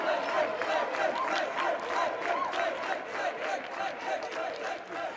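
Crowd at a Kho Kho World Cup award ceremony after a Germany versus Kenya men's match, a loud continuous roar of cheering voices and clapping holding steady throughout.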